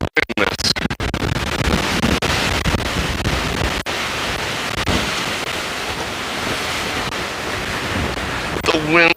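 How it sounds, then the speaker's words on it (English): Strong wind batters a microphone outdoors in Las Vegas at night, producing a loud, continuous roaring rumble with sharp buffeting gusts at the start. "The wind is bonkers."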